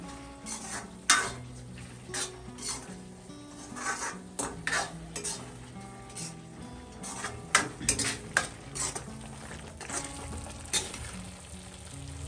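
Onions frying in oil in a pan while spinach and paneer are being cooked, heard as a low continuous sizzle broken by frequent clinks and scrapes of a utensil against the metal pan, irregular and fairly close.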